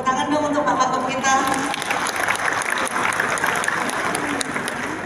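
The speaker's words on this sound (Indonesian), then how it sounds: "Tepuk tangan dong untuk Bapak Wagub kita." Audience applause for the deputy governor at an Indonesian notary association seminar, a steady mid-loud clatter of many hands running the whole time, with voices faintly mixed in.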